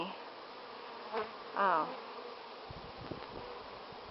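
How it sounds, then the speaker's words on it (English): Honeybees buzzing at a Langstroth hive, a steady faint hum with a few louder passes of bees flying near, and a brief voice breaking in once. "The bees in the Langstroth make more honey."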